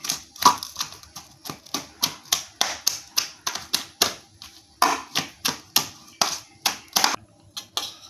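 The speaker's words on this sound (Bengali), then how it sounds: "এই শিলনোড়া দিয়ে একটু থেতো করে নেব" Boiled chalta being mashed with a stone shil nora grinding slab, a steady series of sharp, close thuds and knocks in an even rhythm of roughly two or three strokes per second, with no talk over them.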